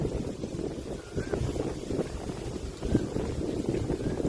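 Cool outdoor wind blowing steadily and fairly loudly across the microphone in a rural roadside setting, a constant rumbling gust with faint background sounds.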